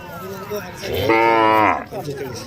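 A Khillar bull lets out one long, loud moo that rises, holds and fades, close by at a cattle market in Sangola, with faint background noise around it.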